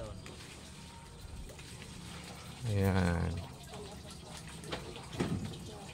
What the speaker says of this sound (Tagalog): pressure na yung tubig nyo galing sa pressure tank